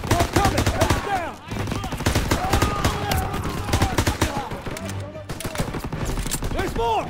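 Dense battlefield gunfire from the World War II shooter Call of Duty WW2, with rapid rifle and machine-gun bursts cracking continuously and loudly, shouted voices mixed in.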